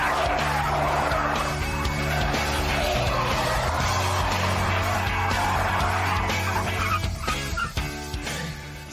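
A saloon car spins out with its tyres skidding, a continuous loud squeal and engine roar that goes on without a break for several seconds and eases off toward the end.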